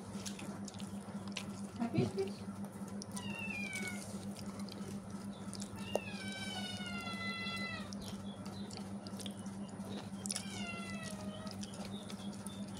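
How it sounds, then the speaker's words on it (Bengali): A cat meows about four times, rising and falling in drawn-out cries, fairly faint and a little distant, over a steady hum and trickling water. "বিড়াল ডাকছে"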